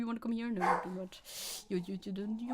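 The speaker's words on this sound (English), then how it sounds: "I have a dog. He likes to bark." A pet dog lets out a few short barks close by, mixed in with a person talking over them indoors.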